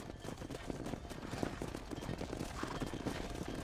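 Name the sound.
horse hooves on a cattle drive, Red Dead Redemption video game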